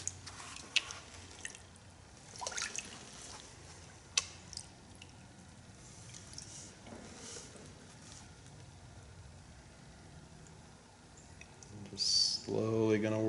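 Water sloshes and drips in a gold pan as it is swirled and poured off while panning paydirt, with soft intermittent splashes and a louder pour near the end.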